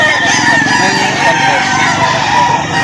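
A rooster crows loudly and close by at a busy chicken market in Lipa City, Batangas, over a dense din of other fowl and people talking.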